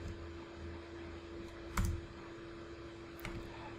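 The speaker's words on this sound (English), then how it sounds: "Hit the enter key." A computer keyboard's enter key is pressed twice, sharp single clicks a little more than a second apart over a steady low hum, close to the microphone and with no voices.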